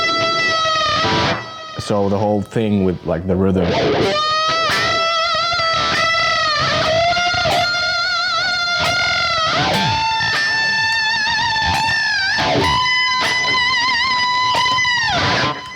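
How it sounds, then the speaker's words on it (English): Electric guitar bends downward with a whammy bar, distorted lead notes swooping and wobbling in pitch across a rhythmic passage, with a voice briefly talking in the clip. "bend downwards with a whammy bar,"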